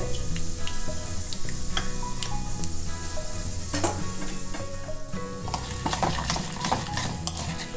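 Chana dal, urad dal and mustard seeds splutter and crackle in hot oil with a steady dense sizzle, broken by sharp popping bursts and an occasional scrape of a stirring spoon against the pan.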